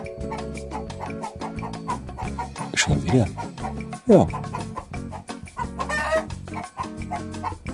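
A man imitates a clucking hen with his voice, making a run of close, loud clucks and squawks, with brief talk mixed in.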